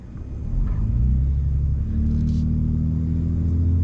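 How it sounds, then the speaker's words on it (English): A turbocharged 2022 Ford Raptor pickup's engine rises into a loud, sustained drone as it climbs a steep sandy hill off-road in four-wheel high, steady and close with no voices. "So we're gonna try to make it up the super steep sandy hill in two-wheel drive."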